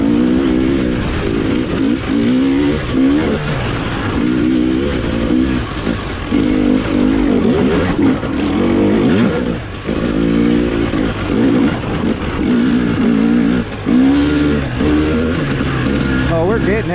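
A 2023 KTM 300XCW two-stroke dirt bike engine revving loudly and continuously while being ridden, rising and falling in pitch up close, with no pauses across the whole stretch.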